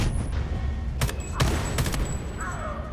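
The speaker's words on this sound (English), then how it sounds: "I can't see with all these explosions going off." Explosions and gunfire erupt in the shooter video game Homefront: The Revolution, with several sharp, loud bursts and booms cracking over a dense battle din.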